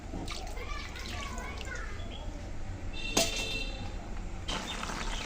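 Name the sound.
water being poured into tilapia curry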